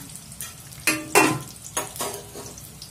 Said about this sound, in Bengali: হাই ফ্লেমে বেগুনগুলো একটু বেশিক্ষণ ভেজে নিয়ে তুলে রাখবো।